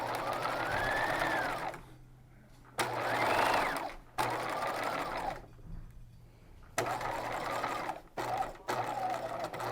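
A sewing machine runs in close, steady bursts while stitching a seam on a waspie corset belt, with short pauses between the runs.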